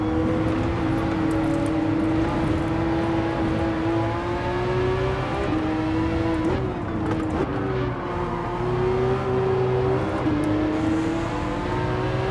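Race cars in Gran Turismo 7, a Porsche with a Lamborghini ahead, give a steady, loud engine drone that rises and dips slightly through gear changes across the whole stretch, with no talk.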